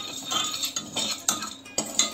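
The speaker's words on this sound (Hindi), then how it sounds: "इसको मैं अच्छे से लाल होने तक भून लूंगी" Roasted chana dal is roasted dry in a pressure cooker over full flame, with a spoon scraping and clinking against the metal pot in repeated strokes about every half second, close and alone.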